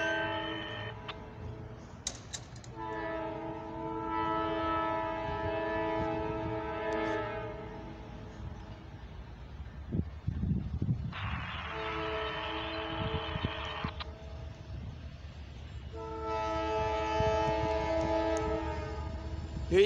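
A CFE eastbound mixed freight train passes a river crossing, its horn blowing several long chords that fade in and out over steady wheel and rail rumble, with a brief bell-like ring between blasts.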